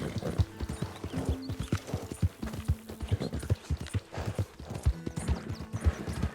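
Horse hooves clip-clopping in Red Dead Redemption 2, a steady rhythmic trot of hoof strikes with a short whinny, under someone talking.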